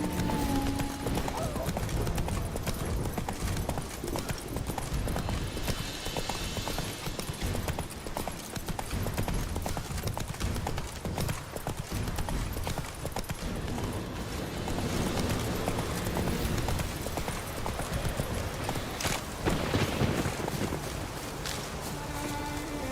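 Horse hooves clip-clop at a steady trotting rhythm in The Witcher 3: Wild Hunt, continuous and fairly close, with a light breeze of wind underneath.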